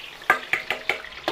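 Oil heats in a second pan as sautéing begins for pancit, with a soft sizzle broken by five or six sharp metallic scrapes of a utensil against the pan at an uneven rhythm, close by.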